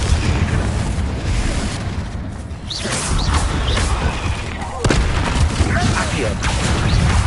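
A Confringo fire spell explodes in Hogwarts Legacy, with repeated booming blasts and crashes amid dense game battle noise, loud and near, and a voice calling out spell names.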